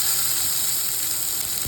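Onion sizzles in hot oil in a wok where garlic and ginger are already frying, a steady, close, bright hiss that runs unbroken with no talking.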